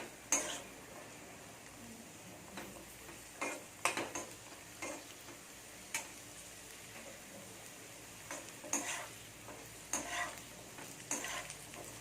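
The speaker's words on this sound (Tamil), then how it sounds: "லேசான சூடு இருக்கும்போதே இதை பொன்னிறமாக வறுத்து எடுத்துக்கணும்." Gentle sizzling of frying in ghee until golden, with scattered clinks and scrapes of a spoon stirring in a pan, fairly quiet and close.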